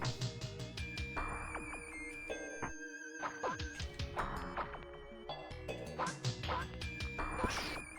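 Chickens in the retro action RPG game Brain Lord give repeated short, clucky, quack-like calls mixed with busy chiptune game music and clattering effects, fairly faint overall, with no speech.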